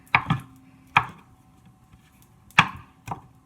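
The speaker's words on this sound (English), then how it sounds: "I'm just gonna chop up these oysters" Knife chopping oyster mushrooms on a cutting board: four sharp, close knocks in an irregular rhythm, two in quick succession then spaced strikes, with short resonant ring and quiet room tone between.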